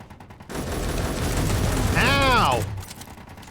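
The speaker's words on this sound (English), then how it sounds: "That was a lot of combined gunfire." Raiders' combined gunfire in a video game, a sustained loud barrage of overlapping shots filling the clip, ending in a brief rising whine or cry before the noise drops away.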